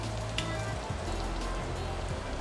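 Battered striper pieces dropped into hot oil, a steady crackling sizzle that bubbles continuously at close range without talk.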